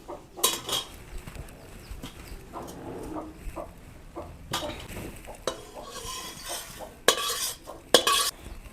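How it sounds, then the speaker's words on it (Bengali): Neem leaves frying in a wok, with a spatula scraping and stirring them in repeated bursts over a soft sizzle, plus a few sharp metallic clanks against the pan near the end. "প্রথমে নিম পাতাগুলো ভেজে নেব"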